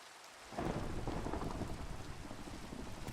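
A rumble of thunder and a steady downpour of rain in a homemade scary video game, starting abruptly and rolling on loudly, with rain hissing across the surface and no voices.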